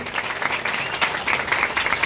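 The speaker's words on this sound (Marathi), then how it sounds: "तर सुरुवातीला जोरदार टाळ्या वाजवूयात या सर्व गुणवंत विद्यार्थ्यांसाठी" An audience at a student felicitation ceremony claps, a dense and steady round of applause that fills the room evenly throughout.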